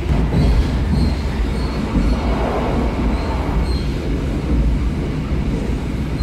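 A Serayu Ekonomi passenger train runs steadily, heard from inside the cars near the restaurant car as a continuous loud rumble with faint wheel squeal and rhythmic clatter.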